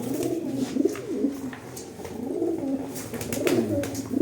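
Pigeons from a Turkish fancier's flock of prized birds coo repeatedly in a steady, overlapping rhythm, close and fairly full, with no talking.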